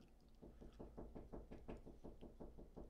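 A cat scratching or knocking at a door, a quick run of about a dozen soft rhythmic thumps, close and steady, no voices.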